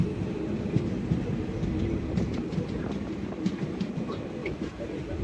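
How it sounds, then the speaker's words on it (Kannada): A train speeds along the Konkan Railway near Kundapur in Udupi, a steady, fairly quiet rumble and rattle of wheels on track with faint clicks throughout, no voices. "ಹೋಗ್ತಾ ಇರ್ತದೆ ಟ್ರೈನ್ ಸೂಪರ್ ಫಾಸ್ಟ್ ಆಗಿ"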